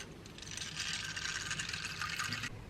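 Water pouring steadily into a bowl of beans to soak them before boiling, a continuous close, splashing fill lasting a couple of seconds with no talk.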